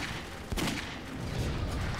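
Gunfire from the video game Clive Barker's Jericho, fighting First World War soldiers: a loud burst of rapid shots erupts after a brief lull, then dense firing rumbles on for the rest of the moment.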